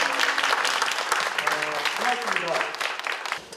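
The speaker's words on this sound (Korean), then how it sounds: "장애, 비장애인이 함께하는 열린 토크 콘서트를 힘찬 박수와" Opening applause at a talk concert bringing together disabled and non-disabled people, dense clapping from an indoor audience that carries on for several seconds while a voice speaks over it.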